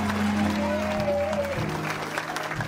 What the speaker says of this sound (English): Come on, give him a big clap this morning.